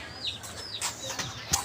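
Chicks kept in a cage at home flutter and give soft clucks and chirps in a few close, brief bursts against quiet background.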